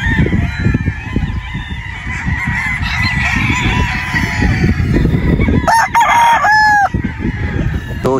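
Sinibalang gamecock crowing on a farm, loud and close, with other poultry honking and clucking around it and a busy, noisy yard behind.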